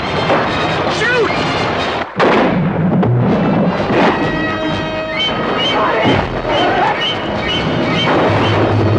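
Loud gunfire aimed at a great white shark in the Jaws film trailer, with heavy booming blasts and a dense roar of rumble and crackle filling the whole stretch, plus a brief dropout partway through.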